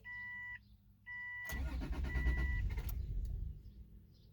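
A Subaru Outback 3.0 H6 with 400,000 km cranks and catches after two warning chimes, the engine firing into a loud, rough start that settles and fades within a couple of seconds; no talking.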